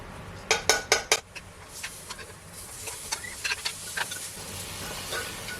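Beans are tossed into a hot pan of oil with turmeric, chili and spices, starting with a few sharp metallic clanks of utensil on pan, followed by a soft ongoing sizzle and scattered scraping clinks, with no speech.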